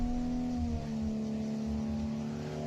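A Toyota JZX90's engine held at a steady, high idle-rev, with a strong harmonic drone that dips slightly then holds, moderately distant and alone.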